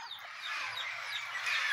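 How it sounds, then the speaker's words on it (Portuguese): Chirps and squawks from parrots arriving at a rural farmyard, a busy overlapping chatter of calls at moderate distance over a quiet background. "os papagaios chegando aqui pra acabar com tudo"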